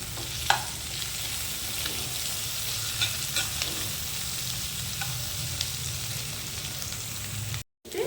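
Green chillies fry in a pan with cabbage and onion for spicy egg rice, giving a steady, close sizzle with occasional stirring scrapes and a short break near the end.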